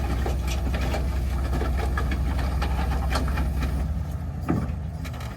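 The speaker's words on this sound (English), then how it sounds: "And try to push it with the rollback" A rollback tow truck's engine runs steadily, loud and close, with a low rumbling drone while pushing a car whose wheels won't roll.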